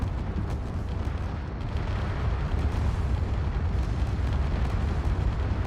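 Spaceship weapon volley explosions in a Starcore tourney, a continuous loud, dense rumble of overlapping blasts and booms with no letup, heavy low end throughout.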